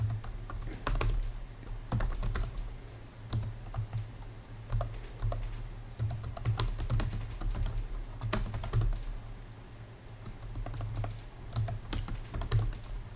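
Fingers tap steadily on a computer keyboard at close range, irregular clusters of clicks and key presses over a low room hum, with no talking.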